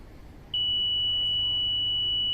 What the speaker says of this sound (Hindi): अपने ये सारे मैसेजेस आपको बीप के साथ सुनाई देंगे, आप इनको पढ़िए।